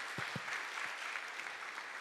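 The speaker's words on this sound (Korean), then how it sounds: "우리 부활하셔서 우리와 함께 하시는 주님께 감사와 영광의 박수 올려드립니다." A congregation applauds during an Easter worship service in a church. The clapping is faint and distant: a brief scatter of claps over a soft room hiss.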